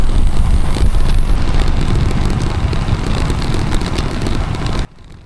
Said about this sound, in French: vraiment face au vent avec des bourrasques à plus de 50 km/h